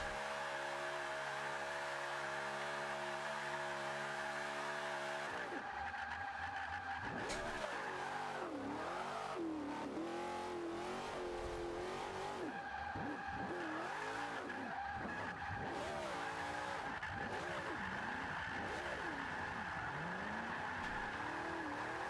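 A Pontiac Firebird Trans Am drifts in the video game Forza 5, its engine droning and revving while tires squeal and skid continuously at close range, with the pitch swooping up and down through repeated slides.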